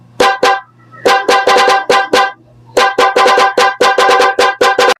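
A music horn relay drives a motorcycle horn through a loud, rapid melodic sequence of sharp honks, grouped in quick bursts with short gaps, up close and alone.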